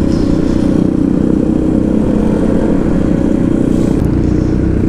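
Steady, loud engine drone of motorcycles riding on an adventure ride, a continuous low rumble with no letup and a faint clatter on top, no voices heard.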